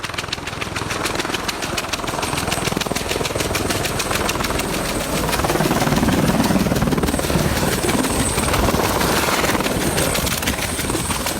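Firefighting helicopter coming down for an emergency landing after something tangled around its tail, a steady loud rotor and turbine roar with constant chopping, swelling slightly midway and running without pause.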